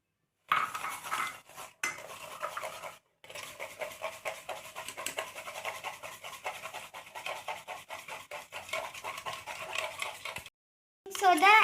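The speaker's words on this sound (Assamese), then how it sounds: "এতিয়া আমি ফেটি আছোঁ আমি ভালদৰে একদম ফেটি লৈছোঁ" Cupcake batter with sugar, baking soda and baking powder is beaten in a bowl. A utensil strikes and scrapes the bowl in rapid, rhythmic strokes, close and steady, with two short pauses and a brief gap near the end. No speech.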